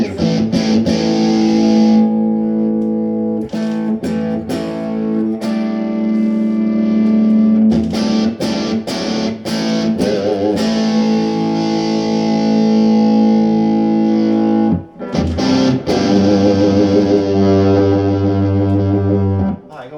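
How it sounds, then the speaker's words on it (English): A Fender Princeton Chorus 2x10 solid-state guitar amplifier plays distorted guitar, loud fizzy overdriven chords and sustained notes with brief pauses, up close and without talking. "that a little bit fizzy, the distortion, isn't it? It's not great, but then it's a solid state amp"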